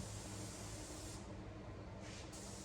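A paint spray gun hisses steadily while applying car paint in a touch-up repair, a continuous close airy spray with a slight dip partway through.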